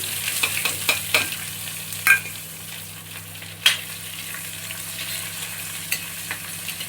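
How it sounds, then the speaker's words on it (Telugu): Onions with curry leaves and garlic fry in a pan for a lentil dal, a steady sizzle broken by a few sharp spoon scrapes and stirring knocks, close and alone. "లైట్గా ఫ్రై చేసుకుందాం ఉల్లిపాయల్ని"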